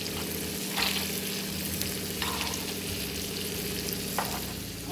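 Asafoetida and chili powder sizzling in oil in a pan, a steady close frying hiss with a few soft scrapes of a spoon stirring, no voices.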